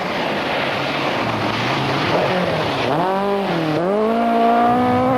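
Talbot rally car driven hard on a stage of the 1981–82 Rally 1000 Laghi, engine revving up and down through gear changes, loud and close as it passes.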